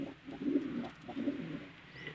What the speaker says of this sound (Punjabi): ਬੜਾ ਹੀ ਸੋਹਣਾ ਹੈ ਕਬੂਤਰ